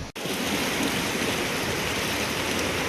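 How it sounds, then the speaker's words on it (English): A Yosemite backcountry creek rushes into a waterfall with a loud, steady roar of churning water, close and continuous after a brief cut at the very start, with no talking. "over here is where it comes out the waterfall"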